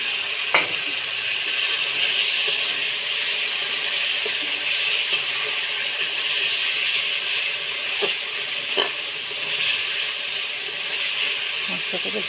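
Chopped onion sizzles in a hot pan for jackfruit biryani, a steady close frying hiss running throughout with a few soft clicks of stirring.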